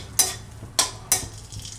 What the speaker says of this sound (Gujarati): થોડીક વાર આને ઘીમાં શેકી લેવાના